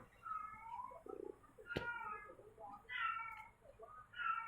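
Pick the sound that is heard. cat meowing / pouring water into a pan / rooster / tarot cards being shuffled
cat meowing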